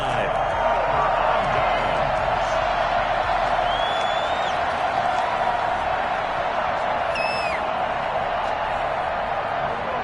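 Steady stadium roar from a crowd cheering at a Colts football game fills the whole stretch, with a few thin whistles rising above it and voices talking over the noise.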